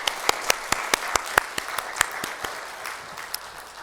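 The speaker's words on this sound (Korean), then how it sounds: "우리 힘내라고 축복하며 격려하며 박수하도록 하겠습니다" Church congregation applauding during a Korean Methodist Sunday service in South Florida, crisp individual claps standing out over a broad wash of clapping that slowly thins toward the end.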